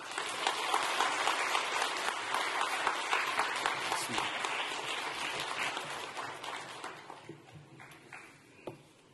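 Church congregation clapping to welcome a retired pastor, dense and steady for several seconds, then thinning into scattered claps and a few isolated taps as it fades.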